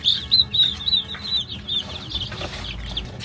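Small chickens in a backyard coop setting give a run of quick, high chirping peeps in a close, steady string, with faint rustling underneath and no talking.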